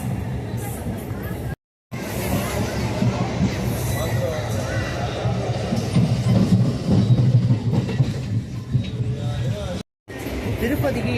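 A crowded passenger train bound for Tirupati rumbles along with a steady rhythmic clatter of wheels on track, loud and continuous, with a faint babble of voices aboard and two brief dropouts.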